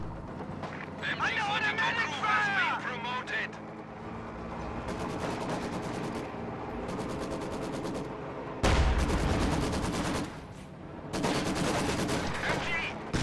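Rapid gunfire and heavy explosions in a war video game, with a rifle grenade striking a building and a StuG assault gun blasting it apart, sustained loud battle noise with a big blast near the middle.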